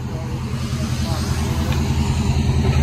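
Chevy/GMC 6.0L LS V8 with an aftermarket exhaust idling, a steady loud low rumble with a lumpy pulsing rhythm, close up, while people talk over it.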